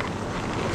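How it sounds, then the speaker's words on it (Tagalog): Strong wind roars steadily across a fishing boat at sea off Palawan, buffeting the microphone in a loud, continuous broadband rush with no break. "Malakas ang hangin."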